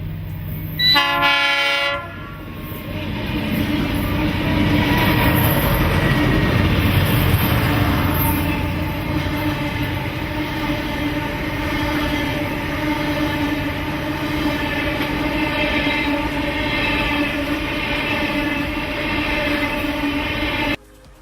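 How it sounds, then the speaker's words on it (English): A train on a disused Port Augusta coal railway line passes at night with a short loud horn blast, then a long continuous rumble and clatter of wagons rolling by close, steady for nearly twenty seconds. "this is the train coming through at night some years back"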